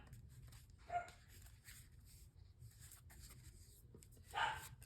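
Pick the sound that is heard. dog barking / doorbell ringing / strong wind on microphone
dog barking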